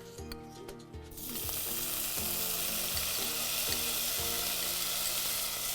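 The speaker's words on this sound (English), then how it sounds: "We got a nice sizzle going on there." Garlic and red pepper flakes for arrabbiata sauce hit a hot pan, bursting into a loud, steady sizzle after about a second and carrying on over soft repeating background music.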